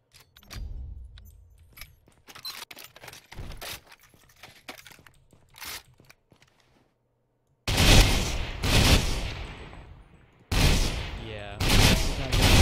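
Light machine gun fire in the shooter game Ghost Recon Phantoms: loud, dense bursts of rapid shots in several long strings, following a stretch of sparser clicks and shots, with no talk over the firing.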